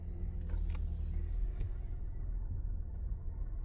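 A vehicle gives off a steady low rumble, close and continuous, with a few brief higher clicks early on and no talk.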